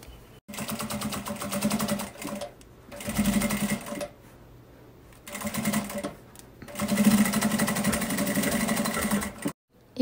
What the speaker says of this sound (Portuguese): E agora, a gente vai costurar essa aba aqui. E essa outra aba aqui.